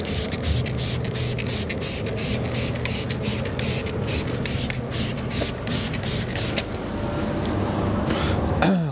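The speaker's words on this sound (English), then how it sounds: "Okay, so we're going to spray it on." Tar and glue remover sprays onto a vehicle in a long run of rapid, close, hissing trigger bursts with a steady spray hiss underneath, loud and continuous.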